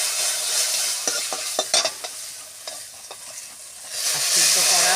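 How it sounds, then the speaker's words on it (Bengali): Mustard seeds tempered in hot oil crushed with a ladle in a pan while making mango pickle, steady sizzle with scattered scraping and stirring knocks, rising to a louder hiss near the end. "সর্ষেটাকে হাতা দিয়ে পিষে দেব।"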